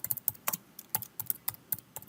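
Fingers type on a computer keyboard in quick, uneven clicking taps, close and clear, with no talking.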